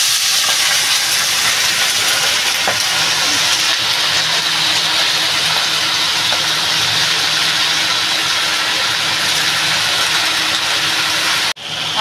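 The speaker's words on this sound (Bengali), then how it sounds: "এবার আমি এই যে সবজিটা ধুয়ে রেখেছি ঢেলে দেবো।" Washed vegetables go into hot oil with cumin powder for a dried shrimp chochchori, setting off a loud, continuous hissing sizzle that runs steadily and then cuts off abruptly just before the end.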